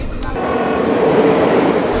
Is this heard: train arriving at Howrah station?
yes